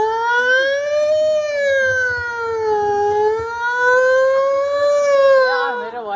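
A human voice imitates police car, ambulance and fire engine sirens at a school inauguration mimicry show, producing one loud continuous wailing tone that rises and falls slowly, then wavers quickly at the end.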